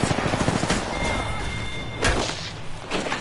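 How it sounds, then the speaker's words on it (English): Gunfire in the battle royale game Apex Legends, with a rapid rattling burst at the start followed by heavier separate shots and thuds, fairly close and loud with no talking. "Careful, careful, we're being fired on."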